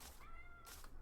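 A single short, faint cat meow in Minecraft, a brief rising cry heard alone over a soft ambient hiss.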